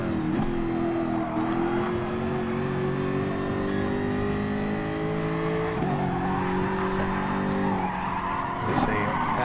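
A race car pulls out of the pits at Fuji circuit in a racing game, its engine revving through rising gear changes with tire noise, loud and close, while commentary runs over it.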